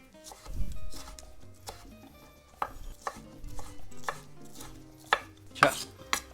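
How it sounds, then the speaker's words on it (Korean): A knife cuts avocado into small pieces on a cutting board for guacamole, giving a run of crisp, close taps that come irregularly at first, then quicken into louder, sharper chops toward the end, with no talking. "아주 작게 잘라주겠습니다"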